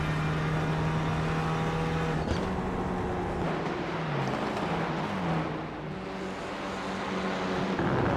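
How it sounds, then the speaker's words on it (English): Front-wheel drive race car engine howls under hard acceleration, pitch climbing and then dropping sharply at each upshift through several gears, loud and continuous onboard with no talk. "you can see some of the gear shifts there from Martineau as the shift lights come up and then pulls the next gear, pulls another gear"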